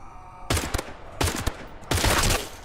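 Three loud, close bursts of gunfire in the video game Pioner, each a quick cluster of shots separated by short pauses, with no voices.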